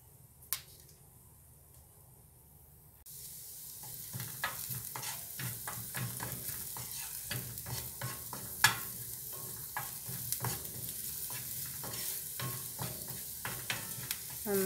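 Capsicum sautéing in a pan with turmeric, chili powder and garam masala for egg bhurji, a steady close sizzle broken by frequent sharp scraping and stirring clicks from a spoon.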